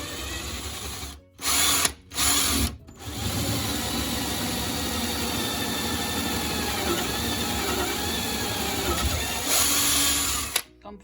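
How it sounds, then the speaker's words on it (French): A power drill bores a pilot hole into a solid acacia countertop 1.5 inches thick, starting with a few short bursts and then running in one long, steady, loud whine close by. "drill a hole to pilot that"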